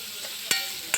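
Green peas fry in a pan of butter, ghee and oil, giving a steady close hiss with two brief scraping stirs, and no speech.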